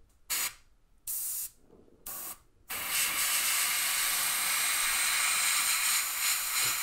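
An airbrush sprays a thin lacquer-thinned paint mix over a hairspray layer on a 1/35 scale Land Rover WMIK model, three short hissing bursts followed by a longer steady close spray.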